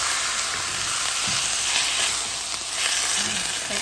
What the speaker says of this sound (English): Now add our tomato. Now this is just diced Italian tomatoes.